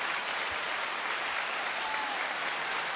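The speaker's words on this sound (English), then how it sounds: "We're clapping live, for you, right?" Clapping from a small group at a live jazz performance, an even, steady patter of hands held at a constant level throughout.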